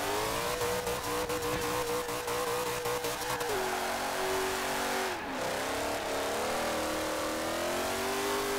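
A mid-engine car in the racing game Forza Horizon 4 revs hard and holds a loud, sustained engine whine, easing off briefly mid-way before climbing again, continuous and close with no talking.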